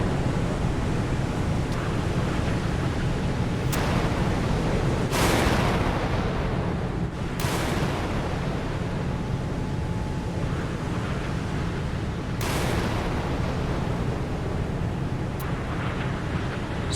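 Harpoon anti-ship missiles launching one after another from a Ticonderoga-class cruiser in the naval game Sea Power: several sharp whooshing bursts break out over a constant roar of wind and sea.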